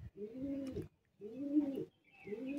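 Pigeons coo in three separate rounded, throaty phrases with short gaps between them, heard close by with no talking.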